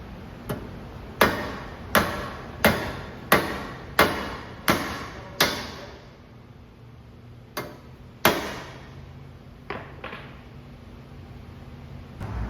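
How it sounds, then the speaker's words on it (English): A series of sharp metallic hammer strikes on a stripped control arm stud of a 2002 Lexus IS300, in a steady rhythm, close and loud, then a pause and a few more scattered blows. "after you hit it with the hammer, you want to take the screw off"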